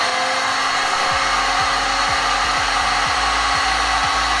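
Black & Decker heat gun running on its high setting, a steady loud broadband blowing roar with a constant motor hum and a faint regularly repeating low thump underneath, no talking.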